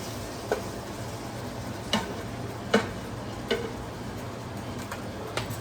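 Onions sauté for hamburger soup in a pan under a soft steady sizzle, punctuated by five or six sharp spoon taps against the pan at regular intervals, no talk.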